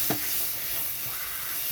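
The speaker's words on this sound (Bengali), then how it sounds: "তো এরকম কচুর পাতাটা কিন্তু খুব ভালো করে কষাতে হবে।" Taro leaves being sautéed and stirred in a pan to dry out their juices, a steady close sizzle and hiss with a brief stir at the start, no talk.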